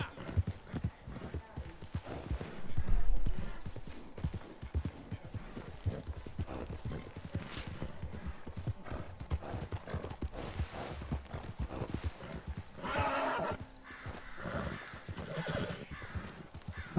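A horse in the video game Red Dead Online clip-clops with hooves and neighs, busy game sounds with a louder burst early on and people talking over it.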